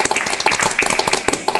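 Brief burst of audience clapping at a Munich social VR meetup, scattered hand claps from a small group lasting a moment, no voices.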